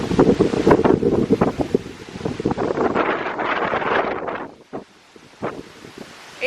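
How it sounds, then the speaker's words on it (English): Strong wind buffets the microphone at a Wyoming state park shoreline, with loud rumbling gusts that fade in the last couple of seconds, leaving only a few brief thumps. "It's windy."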